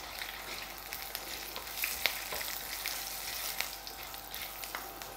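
Green chillies, garlic cloves, a small piece of ginger and turmeric frying in a pan, a steady close crackling sizzle with occasional stirring scrapes and small pops throughout.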